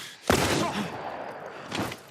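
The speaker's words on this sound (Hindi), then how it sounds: "उसने गोली चला दी भाई।" A gunshot in The Last of Us cracks out sharply and loudly, its boom trailing off into a rumbling decay, with a second, softer burst near the end.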